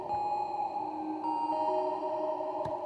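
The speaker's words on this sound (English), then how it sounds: "as you move left to right, the reverb time gets longer and longer." A Novation Circuit synth plays a sustained chord with reverb, its tail lengthening as the decay is turned up; the steady tones hold throughout with a brief click near the end and no voices.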